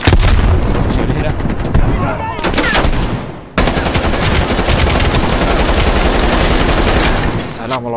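Sustained machine gun fire in Call of Duty: Black Ops Cold War, dense rapid bursts running almost continuously with a brief break near the middle, loud and close, with game effects layered in.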